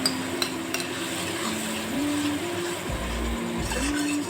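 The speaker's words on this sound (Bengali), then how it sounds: "এবার আমি মশলাটা গুলে যে রেখে দিয়েছিলাম সেই গোলা মশলাটা দিয়ে দিচ্ছি" Fish curry pan in a home kitchen as spice paste is stirred in, a steady low sizzle with a soft spatula scraping and a few light clinks against the pan, close and continuous with no talk.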